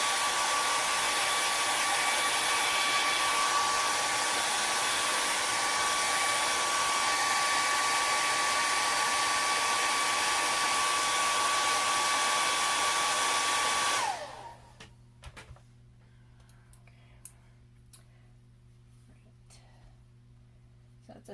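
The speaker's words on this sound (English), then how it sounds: "Especially me using the hair dryer that close to" Hair dryer blowing close to a wet acrylic painting of pansies in a teacup, a loud steady roar for about fourteen seconds that then cuts off abruptly, leaving near silence with a few faint clicks.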